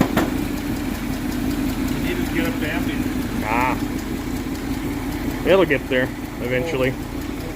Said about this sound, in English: She runs. She's running on all 8.